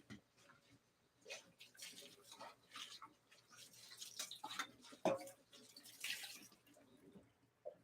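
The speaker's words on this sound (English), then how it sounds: "I'm just cleaning my dog bowls." Dog bowls being rinsed under a running tap, with clinks of dishes and splashing water in short bursts across the clip, loud clatter near the middle, and a low hum behind.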